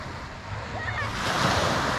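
Ocean surf at Kata beach in Phuket on a cloudy day, a soft wash of waves swelling toward the end, mixed with wind noise.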